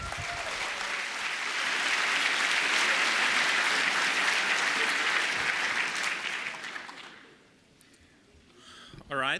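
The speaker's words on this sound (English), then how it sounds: "Please give a warm round of applause to our speakers." Applause for speakers at the 30C3 hacking conference, a dense, loud audience clapping that swells and holds for several seconds before fading out, with a voice starting up at the very end.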